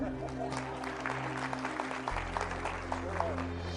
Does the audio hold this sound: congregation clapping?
yes